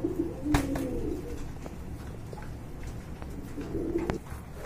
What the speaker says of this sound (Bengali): এক জোড়া সিলভার কালারের ভিতরে রেসার কবুতর